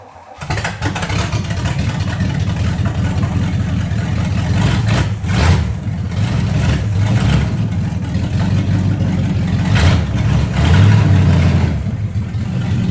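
A 1968 Pontiac Firebird with a custom clutch job, unused for 40 years, cranks and catches, then settles into a loud, rumbling idle with small swells in engine speed, close and steady throughout.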